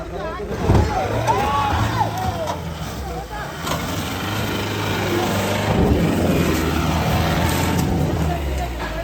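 An off-road vehicle stuck on a rough track in the wild acreage of Wayanad, its engine droning loudly and continuously as it strains, with people talking over it.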